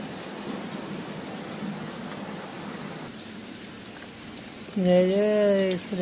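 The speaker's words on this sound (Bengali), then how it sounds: "এত বৃষ্টি সব ভিজে গেছে প্রচুর বৃষ্টি" Heavy rain pours steadily and densely around the Braj area near Vrindavan, a constant wash of sound, with a voice speaking briefly over it near the end.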